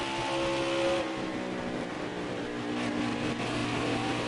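A race car engine drones steadily through a Las Vegas Xfinity series race in a video game, a sustained loud roar with slight pitch shifts as the car passes, with no voices.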